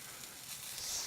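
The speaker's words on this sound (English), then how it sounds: "sizzling away on the flat iron" A steak sizzles on a flat iron griddle, giving a steady, close, moderately loud crackling hiss with no talk over it.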